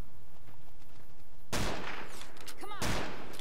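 Gunfire from a weapon in the modded video game Fallout New Vegas: a sharp burst near the middle and another strong shot near the end, loud against a quiet background, with a ringing whine between the blasts.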